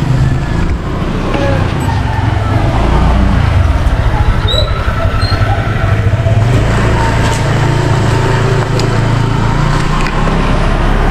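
A motorcycle engine runs steadily nearby, a loud, continuous low drone that holds unbroken with no clear changes in pitch.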